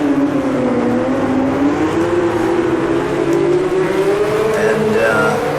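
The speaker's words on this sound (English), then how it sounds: "We are at Kailami in the Lotus 49C" Lotus 49C race car engine in a sim racing game at Kyalami, a loud, continuous whining drone whose pitch rises and dips steadily as the car accelerates and shifts, heard alone without talk.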